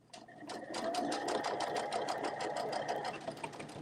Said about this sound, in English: Let's sew up our last set of 19.